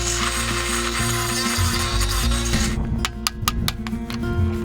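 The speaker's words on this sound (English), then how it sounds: "I'm gonna grind a slit so the tension is away, and then I'm gonna chisel them out." Makita grinding bit cutting a slit into bushings on a farm: a loud, continuous grinding whine for the first few seconds, then rapid clicking and ratcheting bursts as the bit bites and catches.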